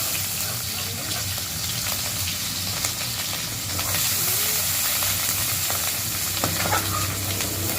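Raw onions frying in mustard oil in a pan give a close, continuous sizzle with stirring scrapes, and the hiss rises a little about halfway through.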